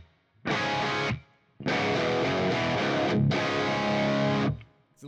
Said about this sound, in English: I'm just going to tweak the reverb a little bit.